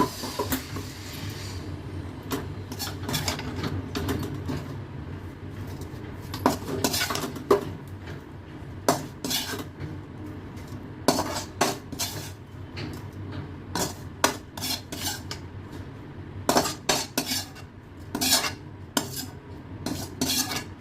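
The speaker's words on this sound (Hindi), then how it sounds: "और अब निकालूंगी मैं इसको इसमें, इस वाले बर्तन में" Metal utensils scrape and clank against cooking pots as cooked food is moved into another vessel, a series of irregular sharp clatters with quieter stretches between, heard up close with no talking.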